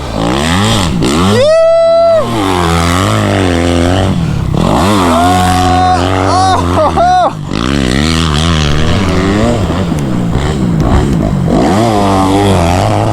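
Dirt bike ridden hard through a deep sand track: a loud, continuous engine roar with rising and falling revs, sharp throttle bursts and gear changes, close and dominant throughout with no talking.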